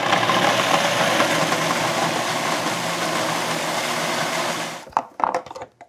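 Blender processing mango puree until smooth, a loud, steady whirring roar that runs for several seconds, then cuts off and gives way to a few clunks and knocks.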